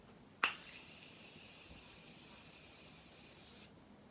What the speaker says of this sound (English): I'm just gonna set my face just with the continuous continuous setting spray